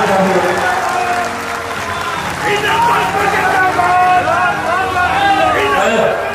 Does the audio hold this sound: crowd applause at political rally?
yes